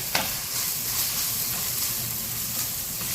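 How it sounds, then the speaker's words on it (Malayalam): Spice powders such as black pepper, coriander, turmeric and chicken masala are stirred in a hot pan, giving a steady close sizzle and hiss with one brief scrape near the start and no talking. "കുരുമുളക് പൊടി, കുറച്ച് മല്ലിപ്പൊടി, മഞ്ഞൾപ്പൊടി, ചിക്കൻ മസാലപ്പൊടിയൊക്കെ ഇട്ടിട്ട് നല്ലോണം ഇളക്കുക."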